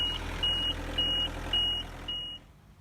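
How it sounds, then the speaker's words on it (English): A construction plant movement alarm beeps five times at an even pace on a site, each tone sharp and clear over low engine rumble before the last one fades out. "Make sure the piece of plant has a working flashing beacon and an audible movement alarm fitted."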